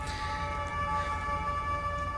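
An Austrian police car siren in the video game GTA 5, a steady electronic wail with sustained tones held at moderate level, playing alone without talk.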